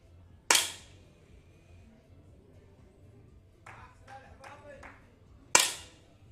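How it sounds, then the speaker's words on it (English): UAE supporters give a brief, sparse patter of claps at a 10m air rifle standing mixed team event, the WSPS Munich 2022 World Cup. The faint handful of claps falls between two sharp, loud rifle shots, with a commentator speaking. "Some claps and applauds there from the UAE supporters who can't lose, really"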